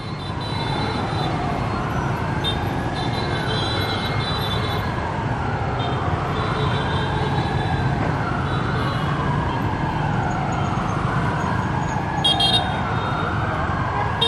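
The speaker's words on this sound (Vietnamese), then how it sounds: "tới cho xe cứu hỏa phía sau kìa, nó chạy lên kìa." A Mitsubishi Morita ladder fire truck drives along with its siren wailing in steady rising and falling sweeps, loud and continuous over traffic rumble.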